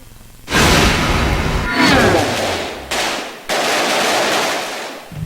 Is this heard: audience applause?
no